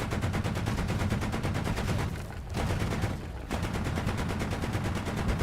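A tank gun fires in rapid, steady bursts in the video game VERTICAL, loud and close, with a brief pause partway through before the firing resumes.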